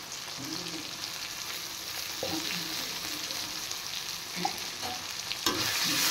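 Turmeric and chili powder fry in a hot pan with a loud, continuous sizzle, and a few brief scraping stirs rise above it toward the end.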